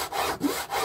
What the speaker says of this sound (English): start off with a nice easy sawing motion to begin with